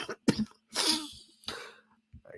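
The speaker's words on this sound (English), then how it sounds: "I coughed because that joke was so bad." A few dry coughs in quick succession, close and fairly quiet, with brief gaps between them.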